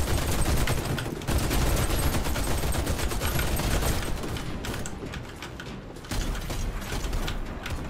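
Sustained automatic gunfire in the video game Warface, on the Pripyat Chernobyl mission. Dense, loud rapid shots rattle almost continuously, broken by brief pauses and mechanical weapon clicks.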